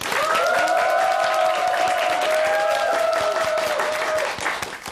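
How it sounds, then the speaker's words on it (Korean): Audience applause welcoming a pro wrestler's lecture on a Korean morning TV show, a steady, loud wash of clapping for about four seconds with faint tonal music running underneath before it fades. "강연을 박수로 청합니다"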